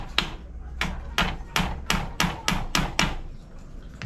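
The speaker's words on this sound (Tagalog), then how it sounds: "Ipapako ko na tong mga kawayan na to dito sa likod na parte" Hammer blows drive nails into bamboo on the back of a battery cage frame: about eight sharp, evenly spaced strikes, close and loud, each with a brief woody ring, then quiet.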